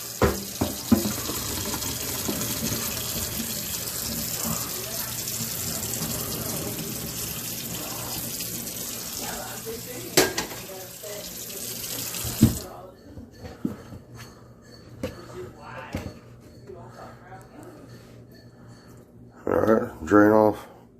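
A kitchen tap runs water at a sink beside boiled noodles during outdoor grill cooking, a steady rushing stream for about twelve seconds that then stops, with a person talking over it and later splashes.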